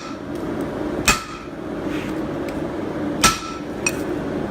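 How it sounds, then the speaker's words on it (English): Hammer striking a chisel to texture small forged metal poppies at a workshop anvil: three sharp metallic strikes, near and fairly loud, spaced apart over a low steady background hum. "I'm just going to put a couple of lines in them with chisel"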